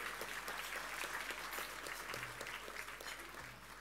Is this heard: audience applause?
yes